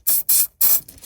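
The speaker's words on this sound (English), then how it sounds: "I will just spray a bit of WD-40" Three short, loud hissing bursts of WD-40 aerosol are sprayed onto coolant hose fittings during water pump and thermostat replacement on a Toyota Prius, followed by a faint fourth puff.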